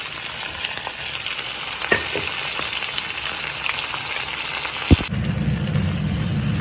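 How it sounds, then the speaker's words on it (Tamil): Green chillies, dried chillies, curry leaves and onions sizzle steadily in hot tempering oil, a close, even crackling hiss with a couple of faint clinks from the pan. "ரம்பையில், பச்சை மிளகாய், காஞ்ச மிளகாய், வெங்காயம் இதெல்லாத்தையும் போட்டு வடிவாக தாளிச்சு எடுப்போம்."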